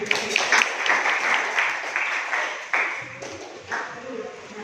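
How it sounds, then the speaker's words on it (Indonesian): Classroom applause during a high school math lesson, a dense wash of clapping from students that swells and gradually thins out, with voices mixed in. "Beri tepuk tangan"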